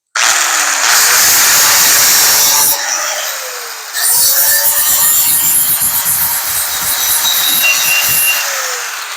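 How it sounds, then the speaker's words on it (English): Grinding wheel on a power grinder working over dented metal: a loud, harsh whining grind close up in two long sustained passes with a brief pause between, pitch sagging as the wheel bites into the panel. "I'm gonna go ahead and I'm gonna grind out a little bit here and here."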